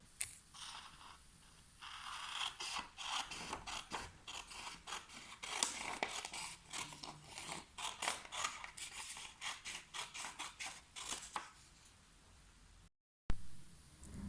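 Scissors cutting strips from paper to build a walking paper robot, a quiet series of close, crisp snipping and slicing strokes in irregular rhythm, with a short silent gap near the end.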